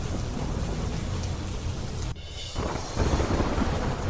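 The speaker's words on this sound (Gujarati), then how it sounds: "અરવલ્લીના માલપુરમાં ધોધમાર વરસાદ." Heavy rain pours steadily in Malpur, Aravalli, Gujarat, a dense continuous downpour with a brief dip partway through before the roar returns just as strong; no voices.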